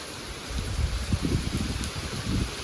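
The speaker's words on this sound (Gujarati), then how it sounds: "એકદમનો વરસાદ વરસે છે." Heavy monsoon rain pouring down, a steady low rushing patter with denser bursts of drops striking surfaces nearby, moderately loud, with no talk.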